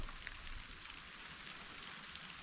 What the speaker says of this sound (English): Well, it looks like it's going to be a rain day all day today.